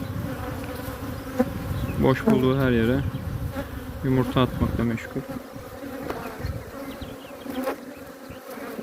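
Honeybees buzz densely and continuously around a queen bee in the hive, close and steady, while someone speaks in a low voice over them.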